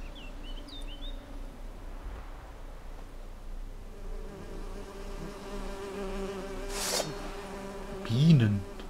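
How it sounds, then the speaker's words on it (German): Bees buzz in a dreamlike garden in The Witcher 3: Wild Hunt, a low, continuous drone with faint bird chirps at the start, rising near the end as a buzz sweeps close. "die Bienen summen"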